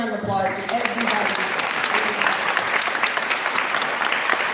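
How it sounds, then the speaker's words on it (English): Audience at a Pennsylvania PA01 candidate forum applauds steadily, a dense wash of clapping that fills the whole stretch at full strength, with some crowd voices mixed in at the start. "please give a round of applause to everybody"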